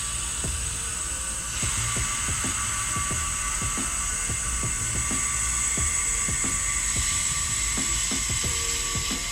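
A shop air compressor runs steadily, pressurizing the air lines with a continuous high whining hum and a rapid, regular mechanical knocking underneath, loud and close with no talking.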